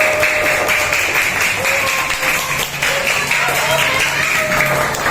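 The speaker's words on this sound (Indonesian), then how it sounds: "Tepuk tangan buat Mbak Aul." A group claps for a first-grade schoolgirl named Aul, a continuous round of applause with faint voices and tonal sounds mixed underneath.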